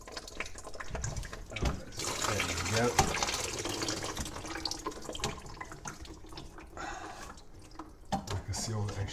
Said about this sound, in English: put water in the sink where this one is, where the disposal unit is